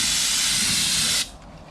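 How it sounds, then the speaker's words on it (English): Air compressor at about 75 psi spraying a clear rust-prevention coating onto an old Ford crew cab truck, a loud close steady hiss that cuts off sharply after about a second, leaving quiet background. "I got the air compressor set at like 75 psi"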